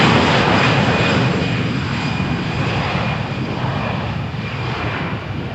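An EasyJet airliner bound for Berlin takes off from Malaga Airport on a stormy morning, its engines a powerful continuous roar with a thin whine on top, starting loud and slowly fading as it climbs away.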